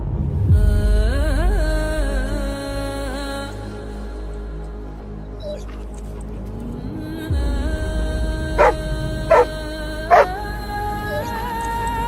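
A dog barks and yelps in a short film, its calls sitting under a swelling musical score, with a few sharp, loud barks near the end.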